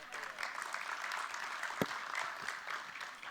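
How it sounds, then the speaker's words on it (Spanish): Audience clapping for a guest at a conference on South American beef, a quiet, steady patter of many hands with one sharp louder clap near the middle. "Así que un aplauso para Carlos."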